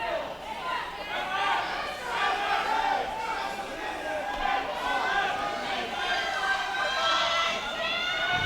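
Sold-out gym crowd at a high school wrestling match, a dense, steady roar of cheering and shouting voices that holds loud and unbroken throughout.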